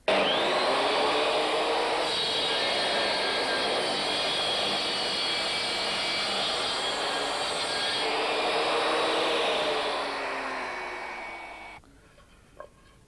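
A Triton power tool cuts through wood, a steady loud whine and roar that holds for about eleven seconds before winding down, with no talking.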